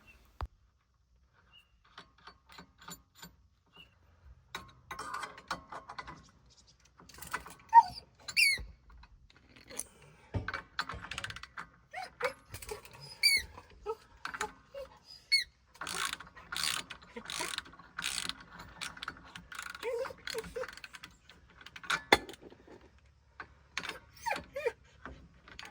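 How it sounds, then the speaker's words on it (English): A wrench working a nut onto a Subaru wheel stud gives soft, rapid ratcheting clicks and small metallic ticks in uneven bursts. The sound is close but quiet, with brief pauses and no talking. "I have an open nut that I can thread all the way onto the stud"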